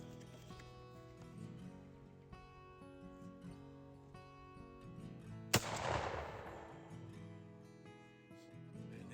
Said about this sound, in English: It's a bottom load, bottom eject gun, and we're going to shoot it at 40 yards